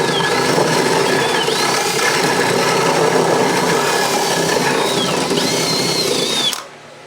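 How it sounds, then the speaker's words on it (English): A power drill bores a pilot hole through the back of an electrical panel for conduit during a 200 amp service upgrade, a steady loud whine of bit grinding through metal that stops abruptly near the end. "drill through that hole so I know where the center is for my conduit to come into the back of the panel."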